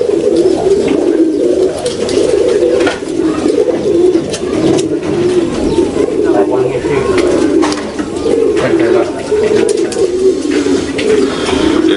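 Pigeons cooing steadily close by, overlapping low throaty coos repeating in soft rhythmic phrases throughout, with people talking faintly underneath.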